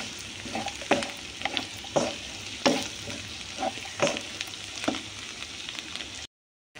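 Curry with cashews and chili powder frying in a pan, a steady close sizzle broken by a series of sharp spatula scrapes and stirs at irregular intervals, with no talking.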